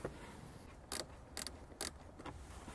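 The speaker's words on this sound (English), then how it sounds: "you will need this type of a wrench, and go ahead and loosen them both" Three short, sharp ratcheting clicks from a wrench loosening bolts on a 2018–2019 Lexus LS500, close and quiet against a low background hum, with no speech.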